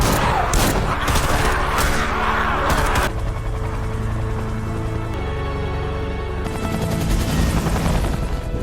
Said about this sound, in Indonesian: tiba-tiba ada satu helikopter yang muncul tepat di belakang mereka